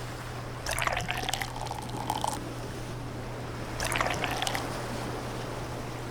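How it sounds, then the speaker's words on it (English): Beer poured into a glass in the video game Dave the Diver, heard as two short bursts of liquid splashing and trickling over a steady low hum with no voices. "Can you first give me a glass of beer?"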